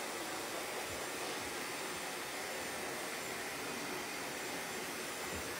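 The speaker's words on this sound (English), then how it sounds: "So now I'm just going to be blow drying it down." A hair dryer blow-drying a man's short hair after a clipper-and-scissors fade cut roars as a loud, steady broadband rush that lasts throughout with no talking.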